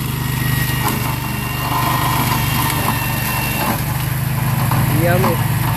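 A Spider slope mower cutting through Georgia pine saplings about six feet high and an inch thick on a roadside slope, its engine a constant loud hum with a low drone, while a person speaks over it.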